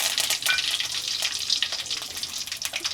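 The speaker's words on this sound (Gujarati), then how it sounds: "લીમડાના પાન નાખી દઈએ," Curry leaves and dried red chilies sizzling in hot oil for a tempering, a loud crackling hiss with rapid pops throughout, close by, with no talking.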